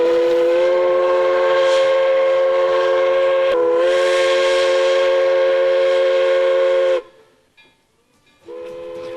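An Ohio Central Railroad train on century-old track sounds a long, loud, steady multi-tone horn blast, then a brief second blast, with a short pause before the horn resumes at the end.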